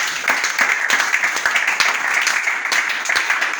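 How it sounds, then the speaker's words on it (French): A church congregation in Brazzaville applauding, steady dense clapping from many people throughout, fairly close and even in loudness. "Acclame pour la gloire de Jésus"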